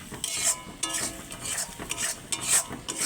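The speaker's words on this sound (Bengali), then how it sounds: "আর লবণ সব মশলাগুলো একটু ভালো করে নেড়ে নেব" A spoon stirs spices, cumin powder and salt in a pan for egg curry, giving quick scraping strokes with a soft sizzle and a light clink of metal against the pan, close and fairly quiet.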